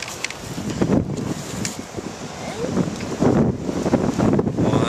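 Gusty wind buffets the microphone outdoors in Canada, a steady rough roar that swells and eases through the whole stretch, with no clear talking.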